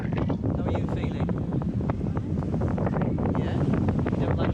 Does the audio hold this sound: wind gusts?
yes